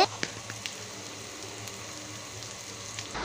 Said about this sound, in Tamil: இப்போ நம்ம மீன் நல்லாவே ஃப்ரை ஆயிடுச்சு